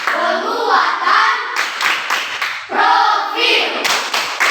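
Schoolchildren in an Indonesian classroom perform the rhythmic P5 clap chant, bursts of hand claps in patterned groups mixed with young voices chanting, close and loud throughout.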